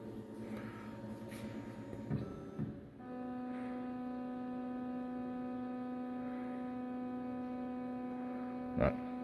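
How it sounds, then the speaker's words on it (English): An AKG1212 CNC router homing its axes, with a steady tonal motor whine that shifts pitch partway through and a couple of mechanical knocks, running alone with no talking. "Not all that terribly interesting to watch a machine home"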